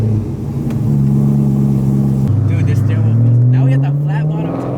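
A BMW M3 pulls away, its engine droning low, then cutting off briefly before revving and rising steadily in pitch as it accelerates. It is heard from close by, with a rumbling, loud, continuous tone and some faint rattles near the end.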